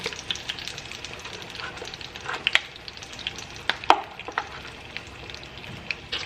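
About half a stick of garlic butter melts in a hot pan for shrimp scampi, giving a soft, steady sizzle with occasional crackles and small pops, quiet and close with no talking.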